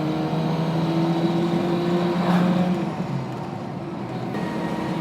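A 1960s Honda S600 coupe engine held at high revs in fourth gear, about 5,000 RPM at 50 mph, a loud steady buzzing drone heard from inside the car that eases slightly near the end.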